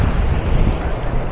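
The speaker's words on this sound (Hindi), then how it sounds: "वो बहुत तेज लहरें आई हैं इस वक्त।" High ocean waves rush and crash at Varca Beach in South Goa, a loud continuous wash of surf mixed with wind buffeting the microphone.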